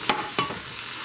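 Three large onions frying in butter and olive oil for Brunswick stew, two short bursts of sizzle and stirring over a quiet background.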